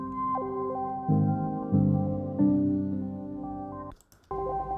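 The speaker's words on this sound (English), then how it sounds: "you just flick a switch and then there is felt between the strings and the hammers" A felt-muted piano, with felt between strings and hammers and miked from behind, plays soft, muffled chords that overlap and ring in a room, with a brief noisy click near the end.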